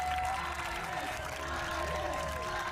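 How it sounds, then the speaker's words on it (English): A crowd at an ultimate frisbee game cheers and claps after a big catch, a steady noisy roar at moderate distance, with a thin whistle-like tone drifting through. "And the crowd goes wild."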